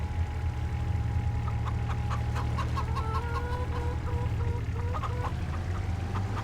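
Several chickens cluck in scattered short bursts over a steady low hum in the video game Farming Simulator 25, moderately loud, with no speech.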